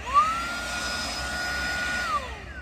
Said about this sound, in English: Nice little handy thing to have here is a cordless vacuum cleaner.